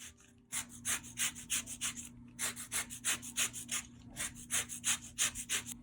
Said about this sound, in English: So we've zested half a lemon